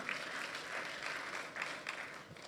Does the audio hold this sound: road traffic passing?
no